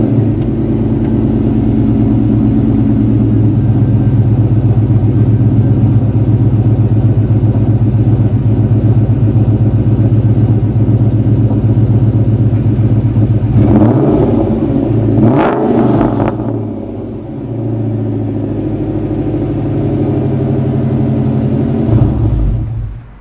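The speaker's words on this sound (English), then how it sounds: "this car has BBK headers, it has a Bassani exhaust, and it sounds insane. It sounds amazing, especially at wide open throttle." A 1999-2004 New Edge Ford Mustang with BBK headers and a Bassani exhaust roars loudly in a steady, heavy rumble, then swells and revs sharply as it passes close by around the middle, dropping back to a lower drone afterward.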